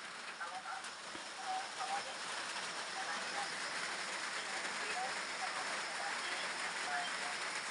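Steady, dense rain drums on a garden hut in a plantation during the rainy season, a constant close hiss with scattered drips and no pause throughout.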